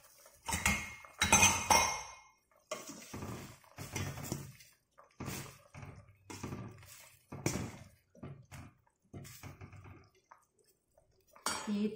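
Several metallic clinks and clatters come from a cooking pot as its lid is put on to bring a Taiwanese chicken soup with bitter melon and pineapple to the boil, close and fairly quiet, with brief gaps between bursts.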